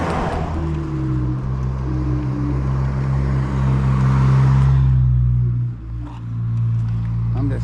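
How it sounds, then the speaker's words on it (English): Road traffic on a hill street heard while riding an e-scooter: a loud engine hum and tyre roar of cars passing close by, swelling and then fading away as one vehicle moves off. "just so much traffic"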